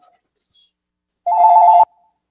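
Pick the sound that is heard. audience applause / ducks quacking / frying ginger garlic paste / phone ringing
phone ringing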